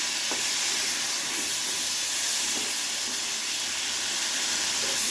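Water added to a hot kadai of spiced potatoes sets off a steady, loud steaming hiss and sizzle that holds evenly from start to finish.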